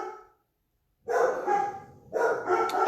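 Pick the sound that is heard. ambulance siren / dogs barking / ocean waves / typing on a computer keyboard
dogs barking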